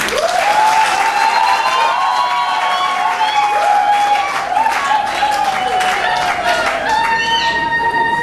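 An audience in a hall at the National Institute of Arts in Kinshasa applauds vigorously, loud sustained clapping with a prominent whistle-like tone gliding over it.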